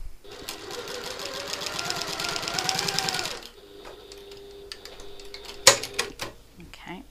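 A sewing machine runs a quarter-inch seam on a satchel handle, a rapid even run of stitching for about three seconds, then it stops and gives a few quieter clicks and a sharp knock.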